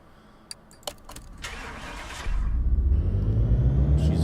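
A Subaru Bratzilla engine on a dyno: a few clicks and a rising whir, then the engine catches and settles into a loud, steady low rumble that keeps building, with no voices.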